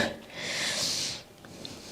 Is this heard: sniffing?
yes